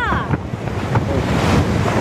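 Ocean surf rolling in at the seashore with strong wind buffeting the microphone, a steady loud wash of waves and gusts filling the whole moment without any voices.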